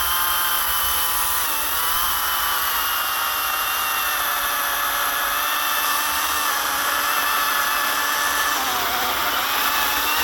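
A small one-handed Stihl chainsaw cuts through a hornbeam log, its engine screaming at high revs in a steady, loud, continuous drone close to the microphone.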